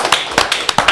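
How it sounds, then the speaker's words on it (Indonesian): Loud, sharp hand claps from an audience at an Indonesian television talk program, a few quick bursts within one second, close and without talking. "Boleh dong kita beri tepuk tangan buat teman-teman saya yang luar biasa"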